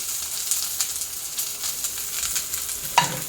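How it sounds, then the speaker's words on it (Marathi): Steady sizzle of onions frying in a wok until brown, with light stirring scrapes and a louder clatter near the end; no voices. "त्याच कढईमध्ये मी हे कांदा टाकून घेत आहे मसाले आपल्याला फ्राय करून घ्यायचे आहे"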